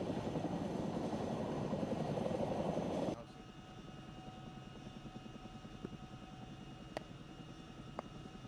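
Chinook helicopter in a video game: loud, close engine and rotor roar for the first few seconds, then dropping abruptly to a quieter, steady whine with a few faint clicks.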